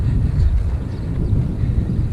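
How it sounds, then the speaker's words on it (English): Wind buffets the microphone outdoors in a steady low roar, loud and continuous throughout with slight gusting swells and no voices. "The wind seems to have got up, and I'm heading all into it."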